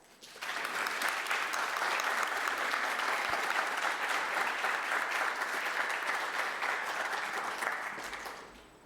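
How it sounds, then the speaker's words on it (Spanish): Sustained applause from an audience, loud and steady for several seconds before tapering off at the end. "Por favor, démosle una cordial bienvenida y un fuerte aplauso."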